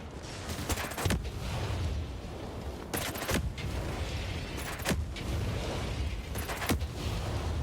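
Gunfire in the video game Ghost Recon Breakpoint as enemies are shot, several sharp separate shots and short bursts spaced a second or two apart over a low ambient rumble.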